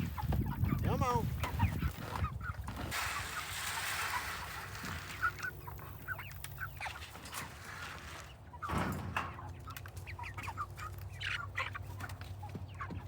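Chickens clucking and squawking close by as they are fed and moved onto fresh grass, with a busy, continuous mix of bird calls over steady outdoor noise throughout.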